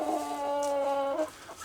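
A Liege cross rooster, a heavy, chunky bird with dark plumage, gives a close, drawn-out clucking call that holds steady for about a second before trailing off, with no talk over it.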